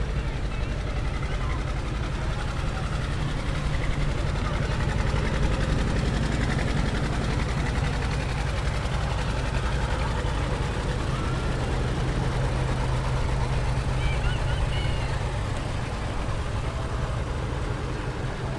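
Tractor engine running steadily at a constant low drone throughout, with people talking over it outdoors.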